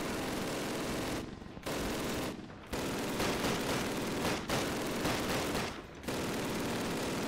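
Machine gun fire in Call of Duty roars in long, sustained, dense bursts, loud and close, broken by a few short pauses, with no talking.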